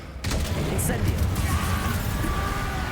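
An Incendio fire spell is cast in Hogwarts Legacy, a sudden loud whooshing burst that settles into a sustained roaring rush of flame with crackling hiss.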